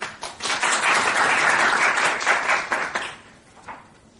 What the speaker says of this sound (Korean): 박수로 좀 여러분